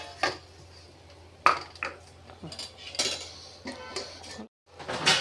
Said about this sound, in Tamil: இப்போ அடியிலேருந்து இந்த மாதிரி கலக்கி விடணும்